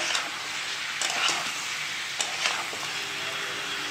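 Tomatoes sizzle and fry in a hot pan with oil, a steady close crackle broken by a few scraping stirs of the spoon, fairly loud and continuous with no voices.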